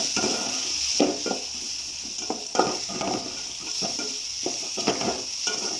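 Tomatoes sautéing in a pan, a continuous close sizzle broken by repeated stirring scrapes and light clinks of a spoon against the pan.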